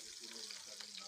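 Garlic sizzles in a frying pan with onion as chicken curry is cooked, a brief, faint, steady crackling hiss.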